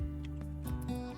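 Goats bleat in the farming game Rimworld, a short wavering cry that swells and fades over about a second. It is close and clear with no talk over it.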